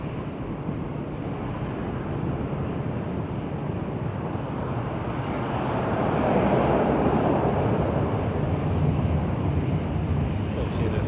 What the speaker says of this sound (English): private Cessna citation coming from Kelowna, British Columbia.